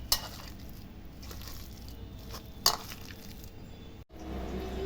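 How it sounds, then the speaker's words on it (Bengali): Boiled potato being mashed by hand with onion, chili, salt, coriander and cumin powder for aloo paratha filling, giving soft continuous squishing and kneading textures close up, with a couple of small clicks and no talk. "সব উপকরণ দিয়ে ভালো করে আলু সিদ্ধটা মাখায় নেব।"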